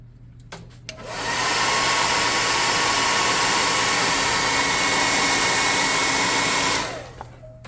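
Hair dryer switched on to dry paint on a tabletop RPG miniature, a loud, steady blowing roar lasting about six seconds, preceded and followed by a few faint clicks and handling sounds.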